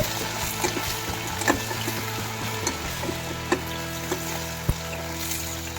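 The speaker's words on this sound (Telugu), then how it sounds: "వంకాయ ముక్కలు కూడా వేసుకోవాలి ఇప్పుడు వీటన్నిటినీ కూడా ఒకసారి కలుపుకోవాలి" Brinjal pieces stirred and fried in a pan for a brinjal-tomato chutney: a steady close sizzle with scattered spatula clicks and scrapes, uninterrupted by talk.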